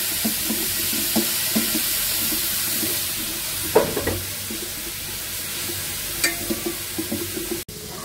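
Saag greens fry in a pan with a steady, close sizzle, punctuated by occasional scrapes and taps of a spatula stirring; no voices, just the constant crackling hiss of oil.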